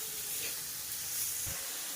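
Red amaranth greens frying in a pan with fried lentil dumplings and shelled peanuts: a soft, continuous sizzling hiss at close range, low in level, with a faint thump near the end.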